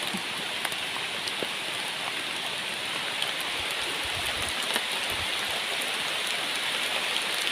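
Steady rain falls through a forest, a dense even hiss with scattered drops pattering on leaves and ground throughout, close and continuous with no voices.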